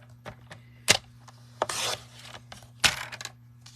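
A sheet of paper being cut, with several sharp snips and short slicing strokes in a quick irregular series, close and fairly loud, with no talking.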